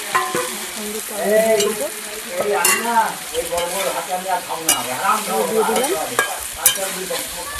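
Chicken fries with spices in a pan as it is stirred, with loud, close scraping and squeaky spatula strokes over a constant sizzle.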